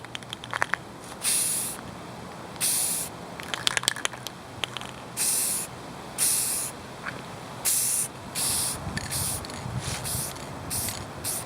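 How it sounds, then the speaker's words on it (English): Aerosol spray can laying light coats onto car brake lights, a series of short hissing bursts about a second long with brief pauses between them, close and clear with no talking. "I'm going to start spraying"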